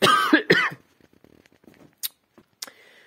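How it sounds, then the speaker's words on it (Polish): Two loud, harsh coughs from a man in quick succession open the clip, close by on a house construction site, followed by quiet shuffling and a couple of faint clicks. "ale zebrało mi coś na kaszel"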